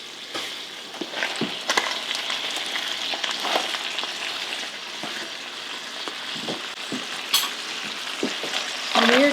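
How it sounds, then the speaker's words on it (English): Ground meat and vegetables sautéing in a pan for a taco stuffed pepper casserole, a steady close sizzle with scattered spatula taps and stirring scrapes throughout. "we're just going to saute this until it gets a little softened"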